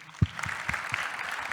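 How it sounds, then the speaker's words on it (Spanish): An audience at a tech talk on bug bounty hacking applauds, a short burst of clapping starting with a sharp clap and settling into a light, fairly sparse patter. "Un aplauso."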